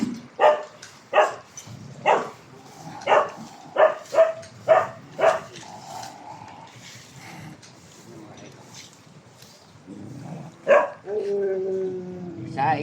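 Brownie, a dog, barks about nine times in a steady series of sharp, fairly close barks, then goes quiet before a final bark and a whiny yelp, with a person speaking at times.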